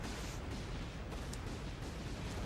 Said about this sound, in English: a million explosions once you defeat the boss